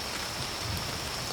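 Steady, even rainfall hisses continuously in a Western radio drama night-camp scene, a soft, dense wash with no voices over it.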